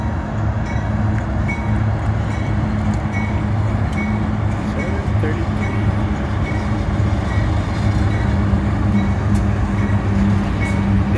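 A Union Pacific train rumbles over the Brazos River in a loud, steady, continuous roar with low engine drone throughout, heard up close.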